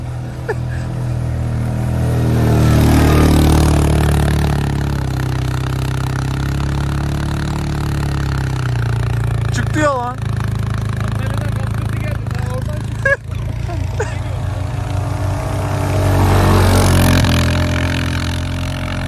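An ATV or motorbike engine revs steadily and loudly nearby during an ATV tour, rising and falling in pitch, with brief knocks and people chatting over it.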